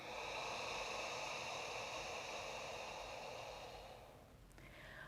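Slow, deep yogic breathing, with air flowing steadily in and out, close and breathy, a long sustained exhale that fades near the end.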